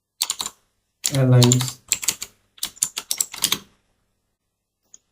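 Computer keyboard keys are pressed in quick irregular clusters while a password is entered, crisp and close, with a brief spoken word partway through.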